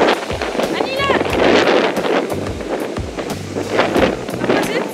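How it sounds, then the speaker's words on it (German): Strong wind buffets the microphone on a beach, gusting in loud bursts with a roar of surf beneath, while a person talks over it and high whistles sound now and then. "Aber jetzt ist es echt ganz schön frisch, sehr windig."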